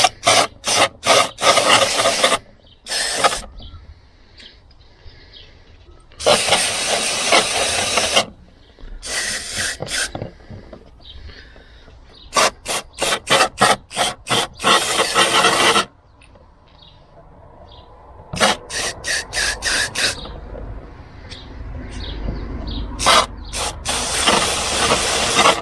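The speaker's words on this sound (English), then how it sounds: "Now we use the brake fluid cleaner here" Brake fluid cleaner sprayed from an aerosol can onto the MAF sensor of a Toyota Land Cruiser 120 with the 1KD-FTV engine, heard as repeated loud hissing bursts, some long and some short quick spurts, up close with quiet gaps between them.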